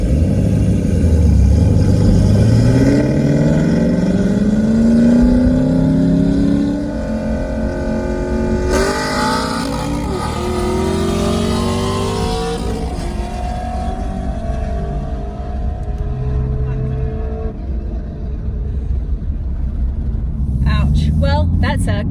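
A six-speed Camaro accelerates hard in a drag race, its engine roaring loudly as the pitch climbs through the gears with a shift partway through, then it eases off, while someone talks over it.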